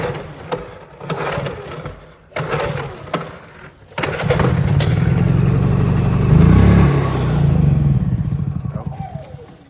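A pull-start small engine, one of several being tinkered with, is cranked by hand and catches, running loud and steady with a low rumble after a few choppy pulls, while people talk over the start.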